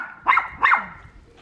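Two sharp, close barks from a dog, evenly spaced about a third of a second apart, then fading into quiet room sound.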